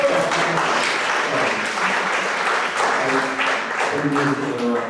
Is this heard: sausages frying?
no